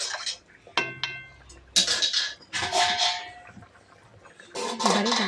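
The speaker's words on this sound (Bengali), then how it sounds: "মাছগুলো দিয়ে হালকা নাড়াচাড়া করে" Pieces of rui fish are stirred in a pan for a curry with potatoes and greens, giving scattered clinks and scrapes of a utensil against metal with soft wet sizzling, close by and intermittent.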